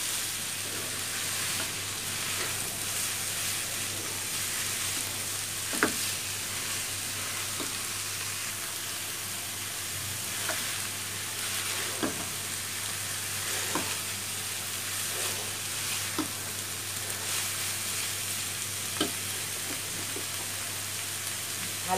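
Leftover cooked rice frying in a pan, a continuous even sizzle with occasional clinks and scrapes of a spatula as it is stirred, close and steady throughout.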